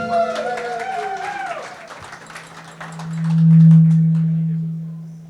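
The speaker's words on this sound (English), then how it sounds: "Everybody, big round of applause for Paul Thorpe" Audience applause at a live show, clapping mixed with a rising tone and then a loud steady hum of microphone feedback that drowns out the fading claps.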